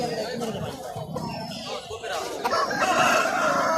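Roosters and hens, including Aseel fowl, at a bird market in Layyah, crowing and clucking close by amid background chatter and people talking.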